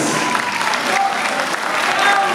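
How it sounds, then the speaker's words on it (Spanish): Audience applause at a packed political campaign launch rally, loud, dense and sustained clapping from a large crowd, steady throughout with no pause. "aplauso, muchas gracias"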